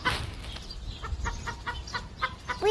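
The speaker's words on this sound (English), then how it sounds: "We have a hen here in the neighborhood in New Zealand." A free-range hen in a backyard in New Zealand clucks in a short series of soft, evenly spaced calls, close by, with no talking.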